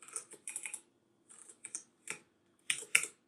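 Bursts of quiet, close keystrokes on a computer keyboard while code is typed, clustered in short irregular runs separated by brief pauses.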